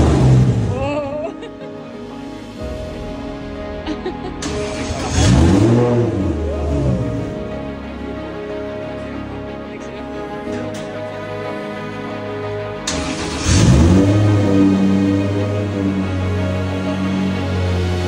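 Nissan S14 engine revved repeatedly, loud rising-and-falling revs with a harmonic snarl, sharp blips near five and thirteen seconds, idling rough between, voices talking over it.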